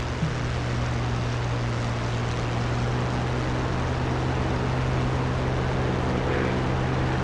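Aircraft engine in a combat flight simulator game (DCS or War Thunder): a steady, loud propeller drone with a constant low hum that runs unbroken for the whole stretch, with no voices.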